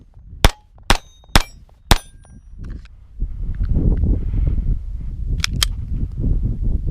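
An FN 502 Tactical pistol fires four quick, sharp shots in a steady rhythm. Handling and movement noise follow, then two more closely spaced shots ring out.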